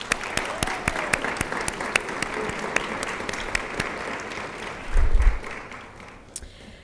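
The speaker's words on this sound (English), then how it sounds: "Give them a round of applause" Graduation ceremony crowd applauding, with sharp individual claps standing out over a sustained clapping bed and a brief low thump partway through before it thins out.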